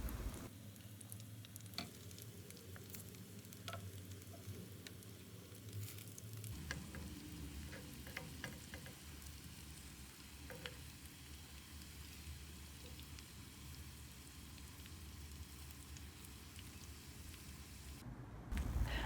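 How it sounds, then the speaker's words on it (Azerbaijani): Cutlets fry in a pan with a steady, close crackling sizzle, shifting slightly as pieces are turned, with a few sharp pops and a brief clatter near the end. "Onları da eyni qaydada o üz bu üz qızardıb bişiririk."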